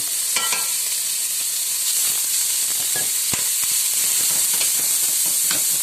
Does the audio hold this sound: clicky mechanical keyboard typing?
no